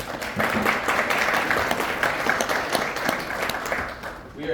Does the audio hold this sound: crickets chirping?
no